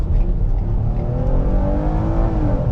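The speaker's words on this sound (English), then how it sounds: "Full power acceleration." A 2015 Ford Explorer Police Interceptor engine revs hard under full acceleration, its pitch climbing steadily as it pulls away, loud and close.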